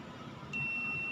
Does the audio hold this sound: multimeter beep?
yes